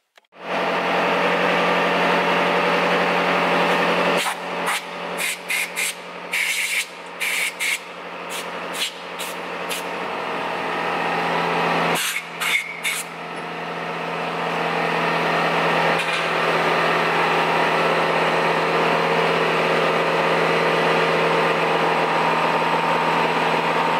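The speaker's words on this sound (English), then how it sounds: "I need to machine the bottom of the barrel" A machine tool runs steadily and loudly while cutting the bottom of a Lambretta TV 175 scooter cylinder barrel, the drone broken by a cluster of brief stutters and dropouts before settling into a long even whine.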